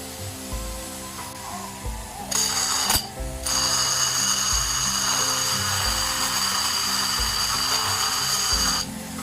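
Power sharpener whining steadily as a gut hook blade is ground, a close high-pitched motor drone with abrasive hiss that rises sharply when the blade touches, holding for several seconds, over a low hum.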